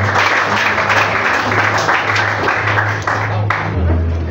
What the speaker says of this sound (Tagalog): Palapakan niyo ang sarili.